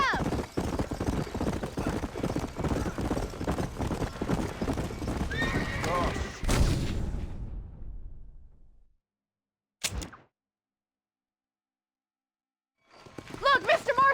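Horses in the Red Dead Redemption video game clop and whinny beside a burning barn, with steady hoofbeats and loud neighs through the first seven seconds, then a brief burst near ten seconds and a return of noise at the end. Voices are heard over them.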